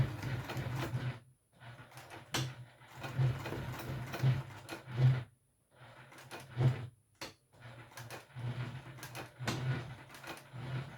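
A sewing machine stitches through thick webbing in short rhythmic runs, each burst of rapid needle strokes separated by brief pauses, close and fairly quiet.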